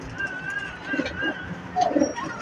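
Racing pigeons coo softly in a loft, a few low rolling coos close by over a steady background hum, with a brief louder burst near the end.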